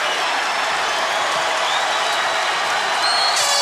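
A large arena crowd at a UFC fight between Robert Whittaker and Yoel Romero roars and applauds at the end of the bout, a loud, steady wash of cheering with no break.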